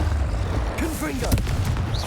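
Confringo fire-blast spell cast in Hogwarts Legacy: a sharp, booming burst mid-clip over a dense, rumbling game soundscape, with brief whooshing sweeps and no speech.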